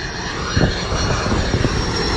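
Passenger airplane rolling down a runway for takeoff at an international airport, a steady loud engine roar with broadband rumble throughout, swelling slightly partway through, heard fairly near.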